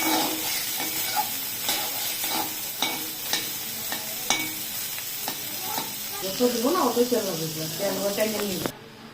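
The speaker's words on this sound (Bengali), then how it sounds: "সয়াবিনটাকে ভালো সাতলানো হচ্ছে, তো মশলা দিয়ে সাতলানো হচ্ছে।" Soybean chunks fry with spices in a pan for an aloo-soybean curry, a close, steady sizzle with scraping stir strokes and voices talking over it.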